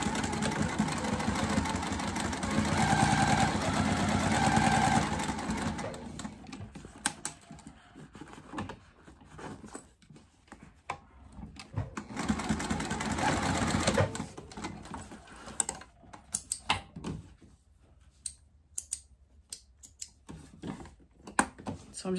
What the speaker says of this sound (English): I'm sewing on my Juki TL2010q.